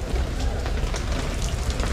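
Heavy rain pours down at the Sturgis motorcycle rally, a loud dense hiss of drops pattering steadily and close for the whole stretch, with no voices.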